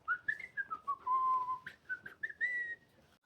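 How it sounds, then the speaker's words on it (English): A person whistles a short, wandering tune of a few sliding notes, one held longer in the middle, clear and fairly quiet against a calm background. "And then she whistled."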